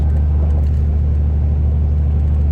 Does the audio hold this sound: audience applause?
no